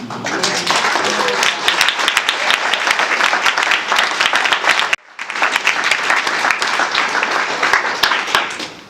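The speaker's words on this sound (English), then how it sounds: "So now, I think it's very appropriate to applaud." Loud audience applause at a school forum about the future of the district's schools, a thick continuous clatter of clapping hands that cuts off abruptly midway, then resumes just as full.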